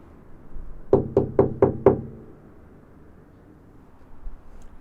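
Five quick knuckle knocks on the hollow, non-solid wooden body of a string bass, evenly spaced and close, each a short resonant thud, followed by quiet room tone.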